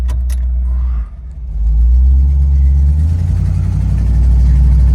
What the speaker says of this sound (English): we got that little exhaust leak at the header gasket